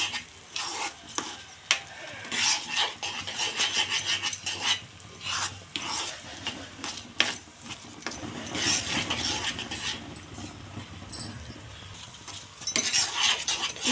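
Semiya halwa with raisins being stirred in a pan, a steady run of scraping, rasping strokes against the metal surface that continues throughout with brief pauses.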